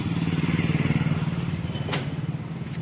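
Sport motorcycle engine idles nearby with a steady, rapid low throb. A single sharp click cuts in briefly partway through.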